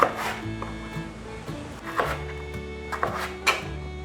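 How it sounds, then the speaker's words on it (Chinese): A knife chopping potato into small dice on a cutting board, about six or seven sharp, separate thunks spaced roughly half a second apart, close and clear with no talking. "把马铃薯切小丁状，我习惯先切厚片。"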